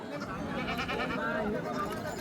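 Goats bleat repeatedly at a crowded livestock market in Bolda, Kalamnuri taluka, Hingoli district, with wavering calls mixed into constant loud chatter and someone talking over them.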